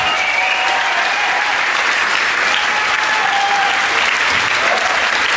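Concert crowd at a rock gig in Heinola gives a loud, continuous round of applause, dense clapping sustained evenly from start to finish with a few shouts mixed in.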